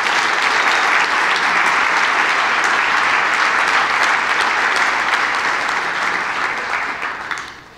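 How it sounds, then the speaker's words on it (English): Sustained applause from a keynote audience in a hall, a loud, even wash of many hands clapping for several seconds before tapering off at the end. "Let's give them a round of applause."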